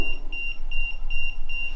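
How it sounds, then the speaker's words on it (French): Small electronic device emitting a rapid series of short, evenly spaced high-pitched beeps, about two per second, loud and close, over a faint background hum with no talking. "Il bip et de la lumière rouge."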